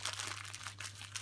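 Thicker plastic bag crinkled and crushed by hand close by, a steady run of crackling rustles with brief louder bursts over a low background hum.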